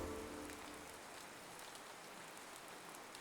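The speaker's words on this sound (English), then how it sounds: "the next morning, I woke to some rain" Steady rain in Minecraft falls on the ground along a Hawaiian coastline, a soft continuous hiss at even, moderate level with no voices throughout.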